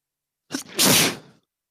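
A single forceful human sneeze, close and loud, with a short sharp inhale-catch followed by an explosive burst that tails off quickly, alone in an otherwise silent room.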